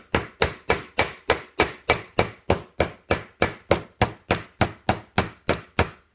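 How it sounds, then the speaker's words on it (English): Steady hammer blows drive a copper rivet into a steel plate, about three strikes per second in an even rhythm, each a sharp close metallic knock with a brief ring, and no talking. "So as I'm hammering"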